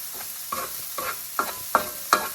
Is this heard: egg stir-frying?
yes